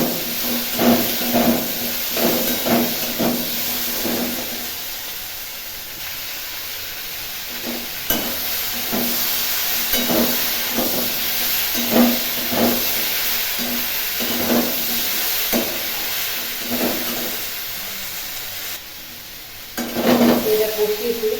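Ground cumin, coriander and other spice masala sizzle and fry in a pan with a constant hiss, while a spoon stirs and scrapes in a steady repeating rhythm throughout.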